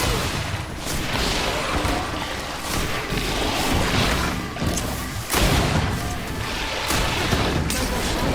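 Grenade explosions in the fantasy action RPG Greedfall during a battle: several heavy booms and crashing blasts at irregular intervals over continuous combat din, loud and close.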